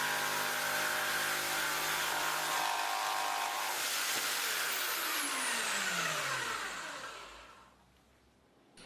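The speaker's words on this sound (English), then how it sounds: "Some blades have variable tooth geometry along their length for fast but super clean cuts in hardwood like this 50mm oak." Bosch jigsaw blade sawing through 50mm oak hardwood, a loud, close buzzing rasp that runs steadily, then winds down as the cut finishes and the saw stops.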